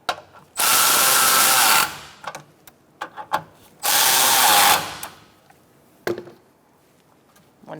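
A power ratchet tightens bolts on the cooling fan assembly of a 2014–2019 Kia Soul 1.6L, with two long buzzing bursts close by, separated by sharp clicks and clacks of tools and parts.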